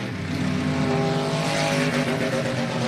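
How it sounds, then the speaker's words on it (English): Race car number 34 at a dirt-track night race at South Texas Race Ranch, engine bouncing off its rev limiter as it passes, a loud, steady, buzzing drone lasting the whole moment. "So you hear that 34 as it goes by, it goes, that's hitting the rev limiter."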